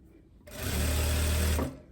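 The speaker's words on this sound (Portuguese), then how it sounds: "E vou vir costurando os 3." Sewing machine stitching three layers of viscose fabric for a loose jumpsuit, a steady close mechanical whir lasting just over a second, starting and stopping abruptly with light room noise around it.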